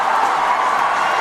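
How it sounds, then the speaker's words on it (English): A crowd applauds steadily at the ISTAF Sepaktakraw World Cup 2025 men's regu final between Japan and India, the clapping dense and continuous throughout without any voices. "Applauded by all the dignitaries"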